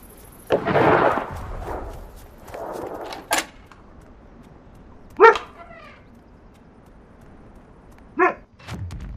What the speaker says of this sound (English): My neighbor's dogs just don't know how to shut up